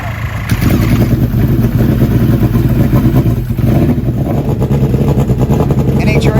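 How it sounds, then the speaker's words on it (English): An 800-horsepower turbocharged Hayabusa drag motorcycle in the Western Pro Extreme class at a drag race, giving a loud, sustained, close engine roar with dense rattly clatter that holds steady throughout. "Vincent Testa and an 800 horsepower Turbo Busa is ready."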